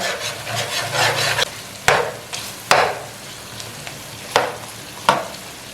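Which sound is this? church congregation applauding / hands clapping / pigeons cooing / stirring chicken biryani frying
stirring chicken biryani frying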